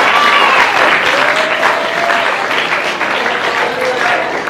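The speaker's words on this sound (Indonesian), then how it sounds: "Tepuk tangan dulu buat pertanyaan yang bagus" Audience at an Islamic lecture on the character of the Prophet Muhammad claps steadily for a good question, a dense, continuous applause at close range throughout, with a faint voice woven into the clatter.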